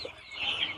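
Native chicks and ducklings, among them black Kadaknath chicks and Pekin ducklings, give a brief burst of high thin peeping calls, fairly faint.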